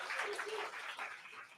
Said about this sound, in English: a little round of applause here for Scott Vertical